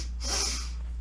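A person doing a mindful breathing exercise takes a sniffing inhale through the nose, a soft airy hiss about a second long that swells in the middle, close and alone.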